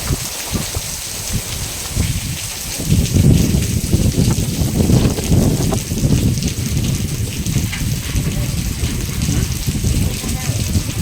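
Gusty wind buffets the microphone with low rumbling while a heavy rainstorm patters steadily, rising and falling in strong waves.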